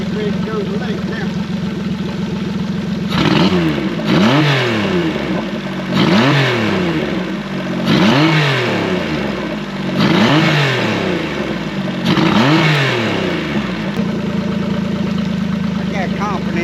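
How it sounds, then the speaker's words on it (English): A Tohatsu outboard boat motor idles, then revs up repeatedly in a steady series of rising and falling surges, loud and close, settling back to idle at the end. "We're gonna rev it up."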